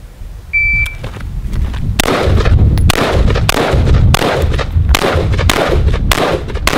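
Loud gunshots at an outdoor shooting range, about half a dozen sharp reports spaced roughly a second apart after a short beep, with strong echoing tails.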